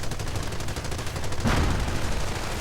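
Video-game battle with grenadiers and rangers trading fire, including a light machine gun: a dense, steady clatter of overlapping gunfire with a louder burst near the middle.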